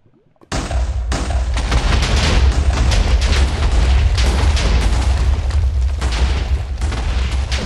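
A sustained roaring blast from a Minecraft explosion erupts after a brief silent moment and rumbles on loudly with crackling bursts throughout, a dense wall of sound with no talking.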